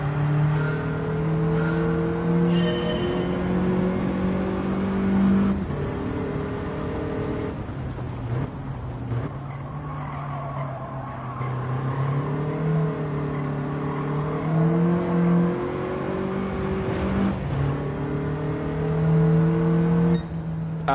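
Race car engine in Gran Turismo 7 held at steady high revs, pitch rising and dipping through gear changes and braking, loud and continuous with no talk.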